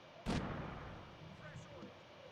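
An artillery gun fires once in a WWII strategy video game, a sharp, heavy blast that rings out and decays over the next second amid quieter battlefield noise and voices.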